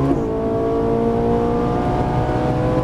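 A Ferrari 458 Italia engine revs hard under acceleration and climbs through an upshift, a loud, close, sustained mechanical howl that holds steady for a few seconds.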